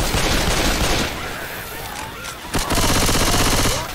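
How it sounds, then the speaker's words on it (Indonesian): Bursts of rapid gunfire crackle loudly, pause briefly, then resume in a dense rattling stream of automatic weapons in the video game Left 4 Dead. "Y'all got to stop shooting me."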